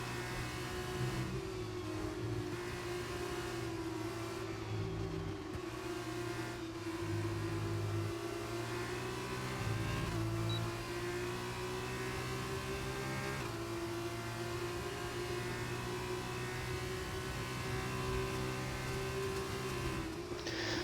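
Formula 2 race cars running nose to tail in a close DRS train at Silverstone, a steady, loud engine drone with shifting pitch throughout, no talk.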